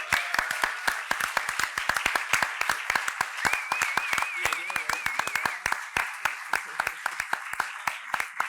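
Audience applause at a documentary film forum on resistance during the dictatorship, as each honoree receives a gift; a crowd's distinct claps ring out in a steady rhythm while voices speak and call out over them.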